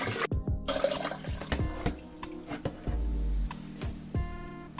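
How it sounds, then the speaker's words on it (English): Tap water runs into a kettle being filled with filtered water, a steady close pour broken by clinks and drips in a quiet kitchen. "Fill up your kettle with distilled water or filtered water."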